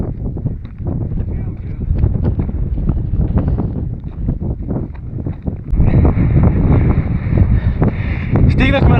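Wind gusting across a high mountain plateau near Botev peak buffets the microphone in a dense, steady roar that swells louder partway through, with a thin whistling tone riding on top near the end.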